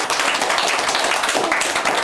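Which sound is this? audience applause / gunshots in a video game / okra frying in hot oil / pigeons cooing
audience applause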